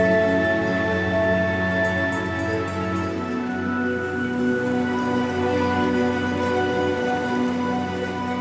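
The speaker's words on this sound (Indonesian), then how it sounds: "Hujan nih" Rain falls at Wae Rebo, a traditional mountain village, as a steady, even patter. A sustained layered hum runs underneath without speech.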